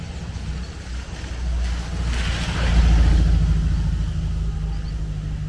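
A car drives along slippery roads, its engine and tyre rumble forming a steady low drone that swells a little midway, with wind noise and no clear speech.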